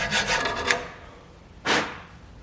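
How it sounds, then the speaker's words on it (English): Rasping strokes sand a rusty brake carrier from an Audi A3 2.0 FSI Quattro, a quick burst of scrubbing followed by a pause and one more loud abrasive stroke, close up. "So we need to sand all this down because there's a lot of crap in here."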